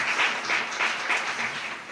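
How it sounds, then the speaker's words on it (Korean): Steady applause from a forum audience at a cyber-security panel session, a dense, even wash of clapping held for two seconds with no voices. "다시 한번 큰 박수 부탁드립니다."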